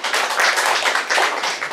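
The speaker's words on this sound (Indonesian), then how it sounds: "Tepuk tangan buat kita." Audience applause after the first screening of a documentary at a film-week Q&A session, a dense, steady wash of many hands clapping continuously at close range, with no voices over it.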